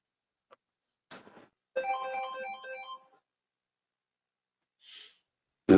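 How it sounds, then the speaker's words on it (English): A phone rings once as a short melodic electronic ringtone lasting about a second, near and clear, with brief breaths and small noises around it and otherwise quiet. "We heard the phone ringing"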